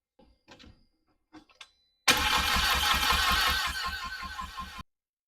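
A Volkswagen MK6 GTI with a swapped engine and an open hole in the downpipe cranks loudly and close for about three seconds with a rapid, rhythmic chugging pulse, then cuts off abruptly, following a few faint clicks and movements.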